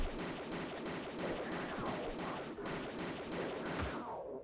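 Rapid automatic pistol gunfire in Tomb Raider 2, a dense, continuous rattle of shots at steady loud level with game ambience underneath, no talking.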